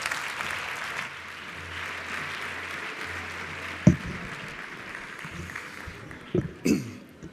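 A sports awards gala audience applauds briefly at a moderate distance, a soft patter that fades into room noise, followed by a few scattered louder knocks and claps near the end.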